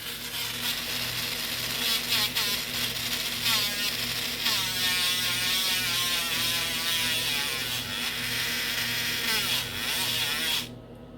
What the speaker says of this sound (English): I take my Dremel, and I've got this bit on the Dremel, which is kind of wide